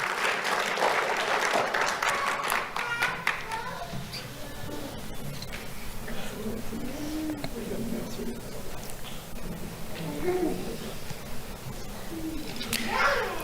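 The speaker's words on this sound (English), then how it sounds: "Let's have a round of applause for Jasliana Francois." An audience claps through a lively burst of applause at a school award ceremony, loud at first and then thinning out as a voice begins speaking over the remaining scattered claps.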